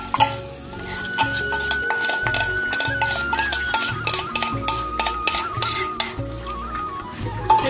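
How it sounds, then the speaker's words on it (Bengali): Beaten egg frying in hot oil in a kadai, a steady loud sizzle with rhythmic scraping and clinking of a spatula stirring against the metal pan throughout. "ডিমটা ভাজতে দিয়ে দিলাম"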